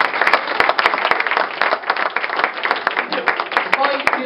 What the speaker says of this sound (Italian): Un applauso spontaneo del pubblico e poi...